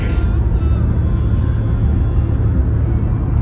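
A car on the road to the airport in the Philippines, heard from inside the cabin as a steady, loud low rumble of engine and road noise that stays even from start to finish.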